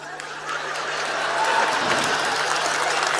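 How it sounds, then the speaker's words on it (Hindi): An audience at a poetry recital (kavi sammelan) in Raipur breaks into applause, a dense wash of clapping that swells and holds steady, loud and close, with a few scattered chuckles. "ताली बजाओ"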